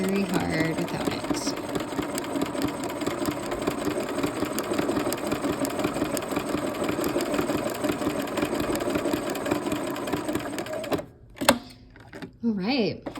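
A home sewing machine stitches quilt blocks with the needle-down setting, running in a steady, close mechanical whir for about eleven seconds before stopping, followed by a few short bursts. A voice talks over it.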